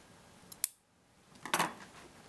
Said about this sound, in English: Now we can cut off all this excess zipper.